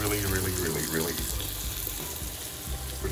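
Lamb chops braising in a hot pan, a steady dense sizzle and bubbling hiss that stays loud and continuous throughout.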